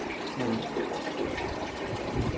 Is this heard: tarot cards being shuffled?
no